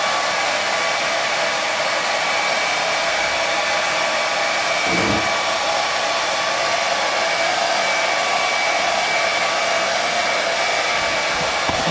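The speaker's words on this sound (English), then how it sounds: "Hair dryers are great." A hair dryer blows steadily and loudly up close as it dries a pair of trousers, a constant unbroken roar for the whole stretch.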